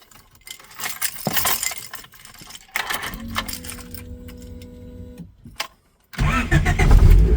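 A Honda VTEC-engined classic Mini cranks and fires up, its engine catching into a steady idle hum, then revving louder toward the end; nearby key jangles and clicks precede the start.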